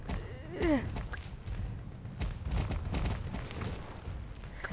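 Soft video-game horse hoofbeats clop along steadily at a distance, a low rhythmic patter under a faint ambient wash, with a brief whinny-like sweep near the start.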